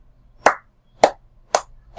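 Three separate sharp hand claps, spaced about half a second apart, loud and close with nothing else around them.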